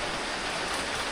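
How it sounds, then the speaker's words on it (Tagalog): Steady, unbroken rain hisses evenly and loudly throughout, a dense wash of falling water with no voices or other sounds. "Kaya lang walang tigil ang ulan"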